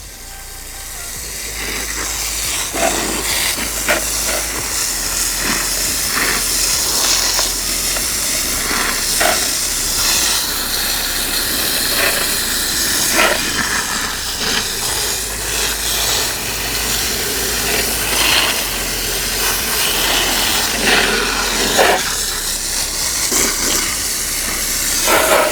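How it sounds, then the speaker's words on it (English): Steady loud hissing spray of water moistening a plant's root ball in a suburban garden, continuous and close with rattling, pulsing bursts throughout. "I'm going to try to go ahead and moisten up this root ball"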